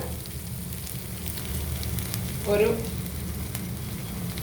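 Oil sizzles and crackles steadily in a pan as soy chunks and potatoes fry for a Kerala-style soya potato curry, a low continuous hiss with a brief stir-like swell midway and one faint word spoken.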